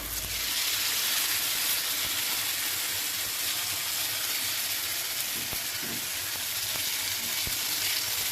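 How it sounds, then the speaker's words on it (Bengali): Daliya (broken wheat) vegetable batter sizzling loudly as two ladlefuls are spread thin across a hot pan, a steady, close, bright hiss lasting throughout with a few faint taps of the ladle. "এবার এতে আমি আস্তে আস্তে ব্যাটারটা দেবো, 2 হাতা ব্যাটার দেবো, দিয়ে সারাদিকে পাতিয়ে দেবো।"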